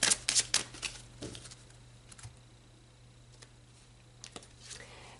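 Tarot cards being shuffled, a quick flurry of riffling snaps up close at the start, then scattered soft taps and slides in a quiet room.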